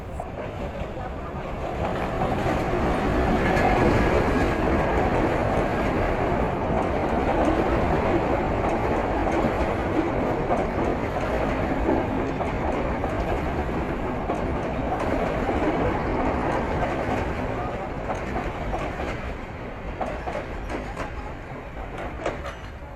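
A train runs along a railway in Colombo, Sri Lanka, its steady loud rumble and rolling clatter filling the whole stretch without pause, sounding close by throughout.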